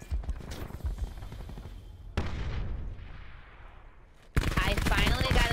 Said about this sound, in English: I'm getting shot from the back.